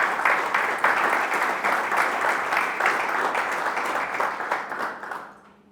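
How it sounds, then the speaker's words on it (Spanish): A church congregation at a conference session applauds loudly, with dense, sustained clapping filling the room for several seconds before it tapers off and fades to quiet at the end. "¿Será que tú le puedes dar un aplauso fuerte a Dios por causa de su Evangelio?"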